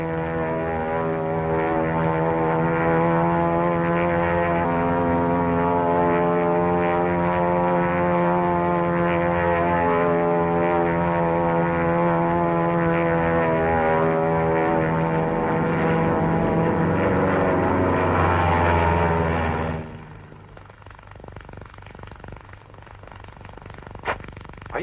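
A P-40 fighter plane flying past gives a loud, steady propeller-engine drone that holds for about twenty seconds, then cuts off abruptly into quiet.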